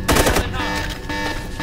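A rapid burst of automatic gunfire in the video game I.G.I-2: Covert Strike, loud and close, followed by lingering reverberant echoes and ringing tones.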